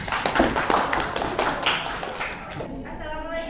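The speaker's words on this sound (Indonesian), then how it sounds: "Tepuk tangan untuk kelompok 2." Students in a classroom clap together for a presenting group, a lively patter of hand claps that stays dense at first and then thins out and fades within a few seconds.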